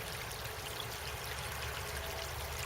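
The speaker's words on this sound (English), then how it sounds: "This is all flowing water here," Steady broadband rush of water flowing through a drainage ditch, continuous and even, like a stream trickling along a channel, with no voices.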